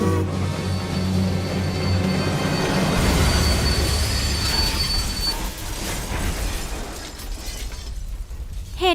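Train collision sound in a Don't Starve lore scene, a loud rumbling railway roar with screeching metal that builds, peaks, then fades into scraping debris, with no talk.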